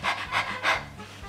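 A person imitates a panting dog like an eager little pup, giving three quick breathy bursts of huffing at close range with no other sound.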